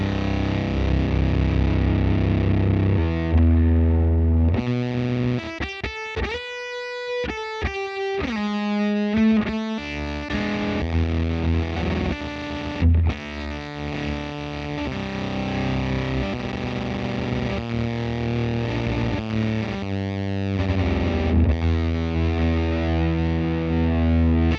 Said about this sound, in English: the Z.vex Woolly Mammoth takes you into a whole different range of fuzz tones